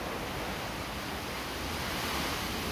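Heavy typhoon rain pours into a house, a dense, constant roaring wash of water with no break or variation, loud and close, no voices.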